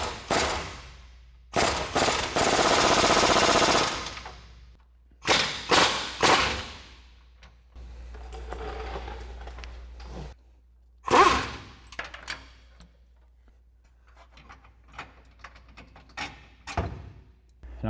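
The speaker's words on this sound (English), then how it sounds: "we'll take a 19 millimeter socket and wrench to fully remove the forward bolt" A 19 mm socket and wrench works the lower control arm bolts on a 2022-2024 Toyota Tundra during a suspension lift install, giving several sharp, harsh bursts of ratcheting clatter separated by quiet gaps and small metallic knocks.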